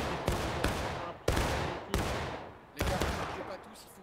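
Musket volleys in a historical battle video game, about five sharp, loud shots spaced roughly every second, each with a long rolling echo behind it.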